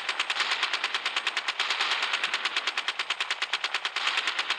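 Rapid, evenly spaced bursts of a gunship's minigun firing in the video game Gunship Battle, a steady mechanical rattle running nonstop and fairly loud throughout.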